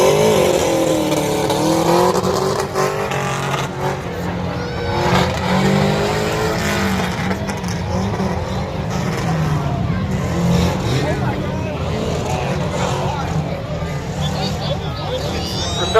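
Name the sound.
1986 Subaru Brat racing at motorsports event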